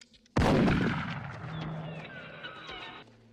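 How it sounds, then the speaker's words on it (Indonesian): A single loud, sharp gunshot as a gangster boss fires at a young man's left hand in a crime drama, bursting out abruptly and trailing into a ringing, slowly fading tail with faint high tones. "Mocho kemudian menembak tangan kiri Wawan untuk membuatnya agar tidak bisa bermain git"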